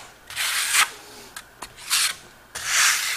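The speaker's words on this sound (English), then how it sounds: "You can hear it scraping across the surface." A trowel scrapes Marmorino lime Venetian plaster across a wall in repeated rough strokes, four main sweeps with a few short scuffs between them, close and fairly loud.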